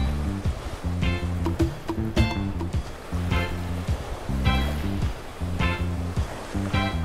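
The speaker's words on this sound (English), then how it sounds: "You will not calm me with your ocean noises." Ocean surf in the video game Dreams, with broad wash rolling in steady swells under a layered musical or ambient background of repeating tones, fairly loud and continuous with no speech.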